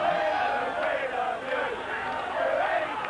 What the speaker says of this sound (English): the crowd certainly getting involved and getting behind the Queensland side.